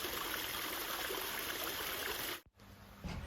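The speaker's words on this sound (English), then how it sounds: "this is the first waterfall I showed you how it flows" Water pours steadily down a rock-built backyard waterfall on an urban farm, a dense, close rushing and splashing that cuts out abruptly near the end before a quieter trickle returns.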